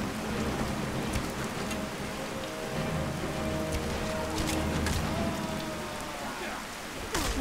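Rain falls steadily in the Skyrim video game, an even hiss of drops pattering on surfaces throughout with no talking, close and continuous.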